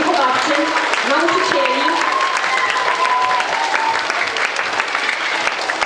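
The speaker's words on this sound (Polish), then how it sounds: "Brawa dla Waszych Pań, opiekunek." Loud, sustained audience applause in a theatre after a children's movement-theatre performance, a dense continuous wash of clapping with a voice speaking over it early on.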